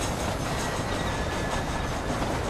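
Steam train in Red Dead Redemption rumbling along the rails, a dense, steady roar of rolling wheels and carriage noise that fills the whole stretch without a break.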